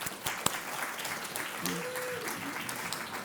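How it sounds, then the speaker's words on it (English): An audience at a talk on Indigenous foodways applauds to welcome a chef onto the stage, giving a sustained wash of clapping with a brief whistle partway through. "Round of applause."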